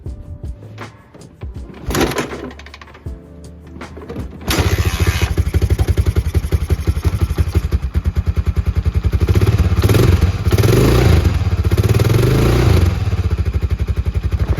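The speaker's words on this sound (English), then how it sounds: "Let's see if I can get this thing to start." A Honda FourTrax ATV engine cranks with a couple of kicks, then fires up at about four seconds and settles into a loud, steady, rapid-pulsing idle that runs close and continuous with no talk.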